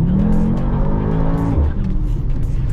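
A Mercedes-AMG GT63s E Performance pulls hard under acceleration, its engine note rising and then dropping sharply as it shifts, loud and close with a rushing turbo whoosh.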